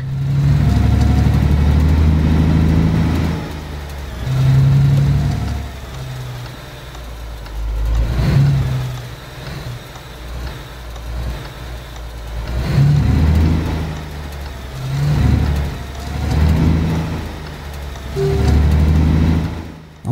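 A truck engine rumbles in the Alaskan Road Truckers video game, loud and close, with a steady low drone that rises and falls in repeated revving swells.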